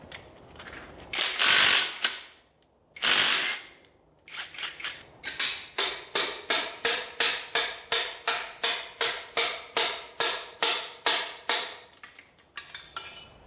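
A ratchet wrench turns a freed-up Chevy 283 engine over by hand: two long heavy grinding pulls, then a steady run of about twenty rhythmic ratcheting clicks, close and fairly loud.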